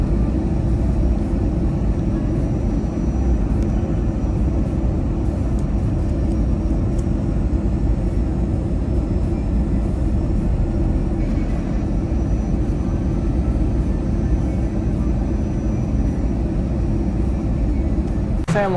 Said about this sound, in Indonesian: Saat lagi pesawat akan segera landing.